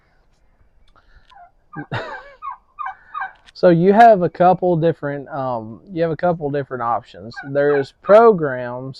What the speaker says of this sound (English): You may hear my turkeys in the background;